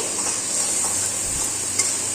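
Chicken kosha spice paste of onion, ginger, garlic, whole black pepper, tomato and green chilli fries in a pan with a dense, loud, steady hiss, plus a faint utensil tap near the end and no speech.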